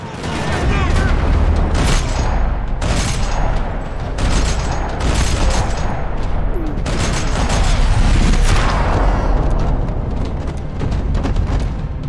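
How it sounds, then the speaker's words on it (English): Rapid, dense gunfire rattles continuously in the video game Max Payne 3, with overlapping bursts and booms in a loud, chaotic parking-lot battle, with some voices mixed underneath. "Another parking lot rattling with gunfire."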